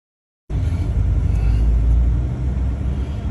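A vehicle engine rumbles low and steady while driving, starting abruptly after a moment of silence and holding a loud, close drone throughout.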